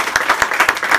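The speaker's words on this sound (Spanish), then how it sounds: "vamos a darle un fuerte aplauso a nuestros hermanos" Congregation applauding newly baptized members at a church baptism, a brisk round of clapping with distinct claps audible throughout, fairly close and loud, no voices over it.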